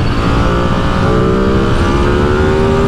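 A Ducati Streetfighter V2 motorcycle accelerates hard in third gear on a UK country road, lifting into a small wheelie. The engine roars loudly and continuously, rising in pitch, with heavy wind rush.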